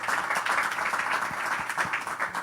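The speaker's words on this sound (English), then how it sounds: "A big round of applause to this group." Applause for a group at a breakout session on AI and the creator economy, a moderate crowd clapping steadily at some distance throughout.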